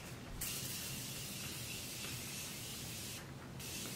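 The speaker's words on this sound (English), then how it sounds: "My Morphe Continuous Setting Mist," Two short, soft hissing spritzes of Morphe Continuous Setting Mist are sprayed onto a face, one at the start and one near the end, with a quiet gap between them.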